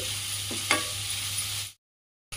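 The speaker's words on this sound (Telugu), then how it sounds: "కొంచెం నూనెలో ఇట్లా మగ్గించుకున్నామండి." Spring onion and egg frying in a little oil, a steady close sizzle with a couple of stirring scrapes, then a sudden cut to silence and a brief return near the end.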